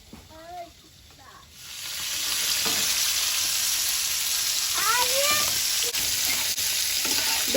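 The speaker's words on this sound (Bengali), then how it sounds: "বেগুনগুলো ভাজা হয়ে গেছে, এবার তুলে নেব।" Eggplant pieces fry in oil: after a brief quiet start with a few faint voices, a loud, steady sizzle surges in and continues close up, with a light clink of stirring.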